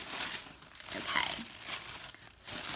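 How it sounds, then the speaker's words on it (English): Brown wrapping paper around a craft kit of stamps being torn and crinkled open, close-up rustling and ripping, with a brief spoken word. "It's just wrapped in like brown wrapping."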